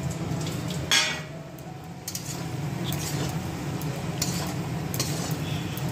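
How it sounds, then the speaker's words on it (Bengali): Fried potatoes being stirred in a cooking pan as mutton is prepared, giving a steady close sizzle with scraping utensil knocks and a sharper clatter near the start, with no talking. "এই যে ভাজা আলুগুলো দিয়ে দিলাম"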